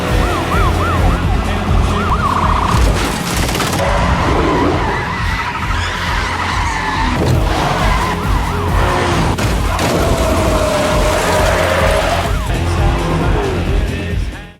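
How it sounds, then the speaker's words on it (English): A police car speeds in pursuit with its siren wailing continuously, tires skidding and engines roaring loudly throughout a chaotic chase scene. "A police car gives chase."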